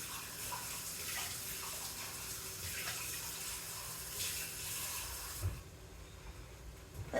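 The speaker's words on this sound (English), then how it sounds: "Let me get some water." A kitchen tap runs steadily with a broad hiss and gush, filling water for a pot of homemade chili, then cuts off near the end.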